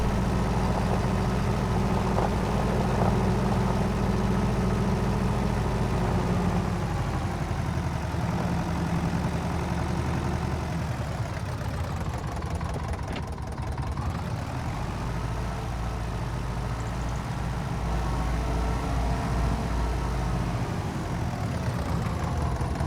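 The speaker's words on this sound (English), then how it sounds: "Yeah, this is an amazing old tractor." An old tractor engine runs steadily on a farm, giving a constant low rumbling idle that shifts slightly in tone midway, heard close and alone.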